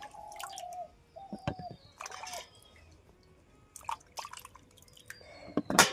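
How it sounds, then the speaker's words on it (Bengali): Pointed gourds being rubbed and rinsed by hand in water in a home kitchen, with scattered drips, splashes and squishy wet handling sounds coming in short bursts, close and fairly quiet, with no talking. "কচলাইয়ে ধুয়ে নিছি পটলগুলোকে।"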